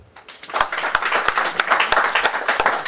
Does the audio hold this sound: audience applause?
yes